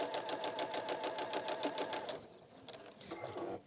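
A semi-industrial straight-stitch sewing machine runs in a fast, even mechanical rhythm up close for about two seconds, then stops, leaving lighter handling noises and faint clicks.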